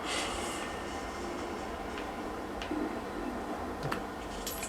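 A metro train in the video game Hitman: Absolution produces a steady, moderately loud rumble with a few faint ticks and clicks scattered through it.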